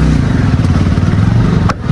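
A loud, close motorcycle engine with a faulty, swollen battery rumbles steadily with a throbbing low drone for about two seconds.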